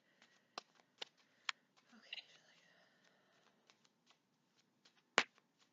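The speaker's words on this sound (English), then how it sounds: "I'll pull out 3 more cards." Tarot cards shuffled and drawn during a reading, a handful of crisp separate flicks and snaps with a short rustling shuffle in the middle, close and fairly quiet, no talking.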